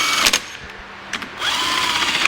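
A power tool runs down the engine bolts during a Bennche 800 motor rebuild, with several short, close bursts of whirring separated by brief pauses.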